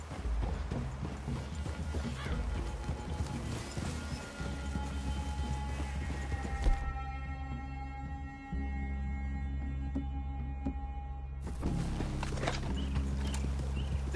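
Several horses clip-clop at a walk in Red Dead Redemption 2, steady hoof taps over a low rumbling game soundscape, with a short whinny and the ambience briefly thinning midway.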